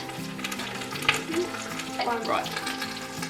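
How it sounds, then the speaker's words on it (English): Constant soft crackling and sizzling of a pumpkin roasting in a fireplace fill the background, with a brief spoken word and a faint squeak over the steady popping. "Excuse the crackly noise, we've got pumpkin roasting on the fireplace."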